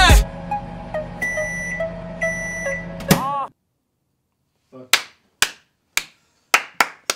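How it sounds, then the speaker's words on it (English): A run of sharp, separate hand claps, about six or seven, spaced unevenly and fairly loud, follows a burst of electronic music with beeping tones and a short silence. "Give him the clap."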